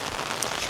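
Steady rain falls at a forest camping resort, a dense even patter on surfaces close by with no voices.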